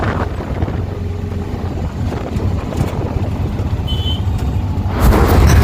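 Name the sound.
auto rickshaw ride to Samalkot railway station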